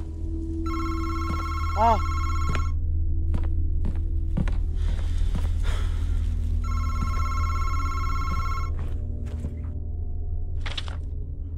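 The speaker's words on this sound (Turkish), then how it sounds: "Telefon çalıyor." A telephone rings twice inside the Madison video game, a bright electronic bell with a sustained harmonic tone. The first burst runs about two seconds, the second comes a few seconds later, over footsteps and a brief voice.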